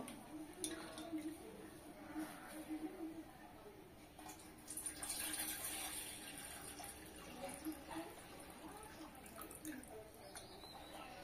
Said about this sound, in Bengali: তো এখন আমি কাবলি ছোলাগুলো ভালো করে ধুয়ে নেব।